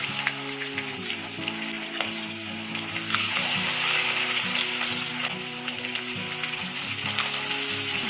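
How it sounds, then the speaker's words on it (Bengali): Pieces of chital fish fry in hot oil over medium heat, giving a steady, close crackling sizzle with scattered pops, while soft background music plays underneath. "এবারে মিডিয়াম হিটে মাছগুলো ভেজে নেব"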